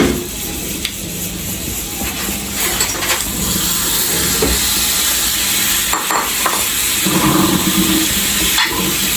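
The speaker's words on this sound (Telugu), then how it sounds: "మనం చికెన్ని రోస్ట్ చేసేసుకుందాం" Chicken pieces roast in butter in a pan for butter chicken, making a continuous loud sizzle and hiss with occasional clinks and scrapes of a utensil.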